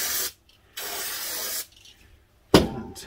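Cleaner sprayed from a spray can during a Myford lathe strip-down, heard as three separate hissing bursts, the first two long and steady and the last a short sharp spurt, with quiet gaps between.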